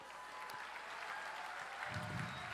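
Applause from an audience, steady clapping that swells slightly near the end, heard at moderate distance.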